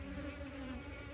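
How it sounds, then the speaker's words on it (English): Honeybees in an unusually agitated swarm hum steadily and loudly around a beekeeper at a hive, a dense continuous buzz close by with no talking. "These are very friendly bees normally."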